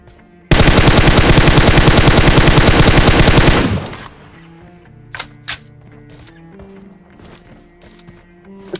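Sustained automatic gunfire in the mobile battle royale game PUBG Mobile, a loud rapid burst lasting about three seconds that cuts off abruptly, followed by quieter scattered in-game clicks and thuds.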